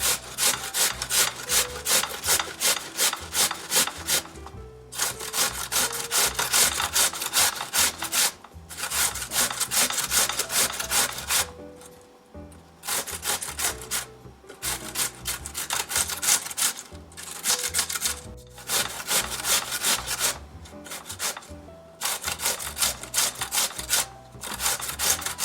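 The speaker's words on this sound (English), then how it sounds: "I have 3 small red potatoes, which I'm going to grate them right after the onion." Three small red potatoes are grated in long runs of steady, rasping back-and-forth strokes, close and fairly loud, with brief pauses between bursts.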